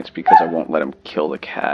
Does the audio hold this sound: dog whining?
yes